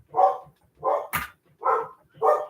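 A dog barks indoors, four evenly spaced, fairly loud barks close by, with a sharp clatter between the second and third bark and no talk over them.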